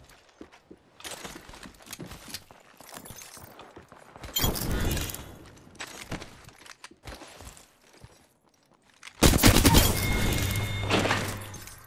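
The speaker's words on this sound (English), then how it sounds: "Taking shots." Gunfire and explosions in a first-person shooter game come in several loud bursts with gaps between them, the heaviest blast near the end.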